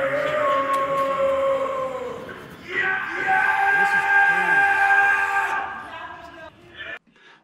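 A man inside the Capitol screams in long, loud, sustained yells, two drawn-out bursts separated by a brief break, with crowd noise around and a sharp cutoff near the end.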